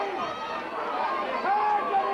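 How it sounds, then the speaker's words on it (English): A large crowd of Dromin Athlacca supporters cheers and roars at an intermediate hurling final in Limerick, a continuous excited din of many voices swelling slightly toward the end. "a hugely vociferous Dromin Athlacca crowd wills that one over the"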